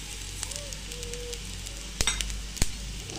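White sesame seeds and cumin sizzle steadily in hot oil alongside coconut, a soft continuous crackle with a couple of sharp clinks of a utensil against the pan.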